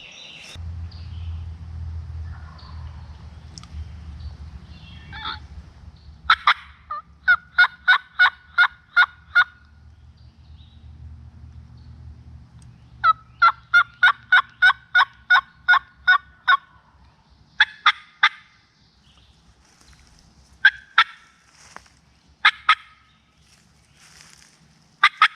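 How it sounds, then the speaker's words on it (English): Wild turkey tom gobbling on his own in the middle of an afternoon at the end of hunting season, repeated rapid gobble bursts at moderate distance over a low rumble of wind or nearby traffic, with several separate volleys and short gaps between them. "He's gobbling."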